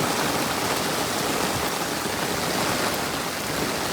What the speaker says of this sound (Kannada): ಇದೇ ಮೇನ್ ಹೋಗ್ತೈತೆ ಗೈಸ್, ನೀರು ಹೋಗ್ತೈತೆ